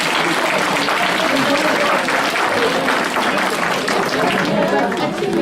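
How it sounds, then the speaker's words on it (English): Sustained audience applause fills the room, dense and steady clapping from a large crowd throughout, with a faint murmur of voices mixed in. "Can we give them another round of applause?"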